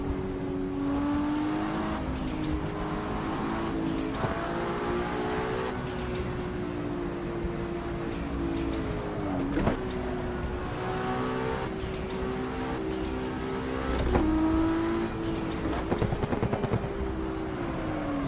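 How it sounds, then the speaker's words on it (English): A 1000-horsepower car in the Assetto Corsa racing game revs hard, its engine note climbing and dropping through gear changes in a loud, steady drone with brief dips and sharper bursts toward the end. "This car sounds so good."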